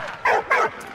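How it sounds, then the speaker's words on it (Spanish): A dog in the video game Valiant Hearts barks at a photo, giving two quick, close, yippy barks in rapid succession. "Está ladrando, el perro está ladrando a la foto"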